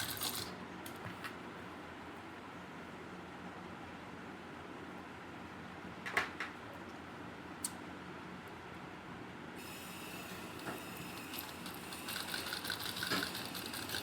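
A sewing machine runs steadily, stitching a pocket onto a ladies' kurti; its faint, continuous mechanical whir holds for the whole stretch with a couple of small clicks and no voices.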